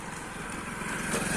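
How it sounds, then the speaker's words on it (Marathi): A motorbike passes along a riverside village path, its small engine buzzing steadily and growing slightly louder over a brief moment. "जाणाऱ्या बाईक"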